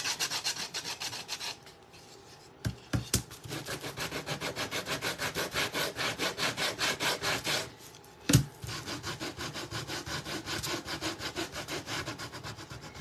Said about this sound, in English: we're going to sand our edges.